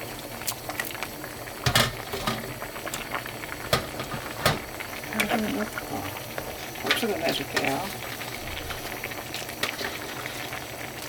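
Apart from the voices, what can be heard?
spicy rockfish stew (ureok maeuntang) boiling in pot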